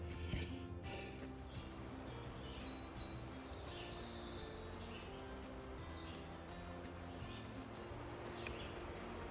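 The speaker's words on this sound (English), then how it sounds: "I'm just listening to a bird." A bird sings faint thin whistled phrases, high and drawn out, over a quiet low background hum.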